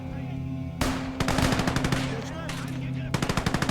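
A Maxim machine gun fires in Gates of Hell: Ostfront. Rapid, loud bursts of automatic fire run in a steady rhythm over a constant humming battlefield backdrop, with a short pause before a final burst.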